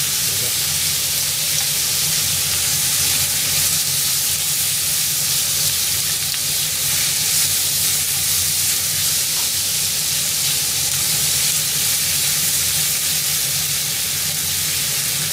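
Pork and eggplant stir-frying with shiso in a hot oiled pan, a loud continuous sizzle and hiss that holds steady throughout, close up and uninterrupted.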